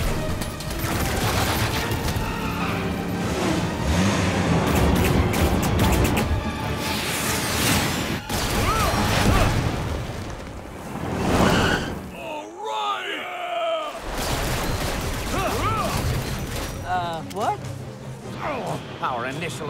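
Decepticon weapon fire and explosions in a Transformers cartoon: dense, loud blasts and bursts over a sustained roar, mixed with shouting voices and a brief lull midway.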